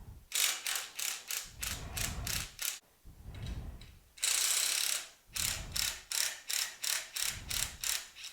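Ratchet wrench with a 1/2 inch socket removes nuts from a Cub Cadet 3X snow blower, giving crisp rapid clicking strokes in repeated bursts with short pauses and softer turning between them, close and clear.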